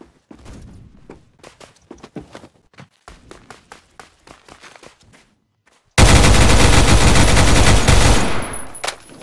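Gunfire in the Roblox shooter Phantom Forces: rapid irregular bursts of sharp shots crackle for several seconds, then after a brief pause a loud, dense, continuous barrage roars before tailing off.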